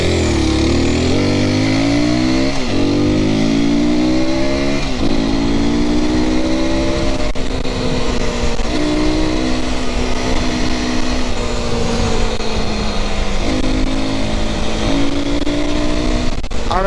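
A new Aprilia SX 125 motorcycle revs continuously while being ridden, the engine note rising and falling through repeated throttle sweeps and gear changes, loud and close throughout with no talk.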